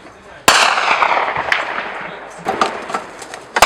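A sharp, loud gunshot rings out suddenly on a front-line battlefield at Pisky, Ukraine, followed by a few smaller cracks and pops trailing off over the next few seconds.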